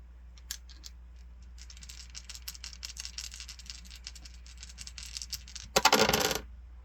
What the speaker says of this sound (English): we're going to begin with the dice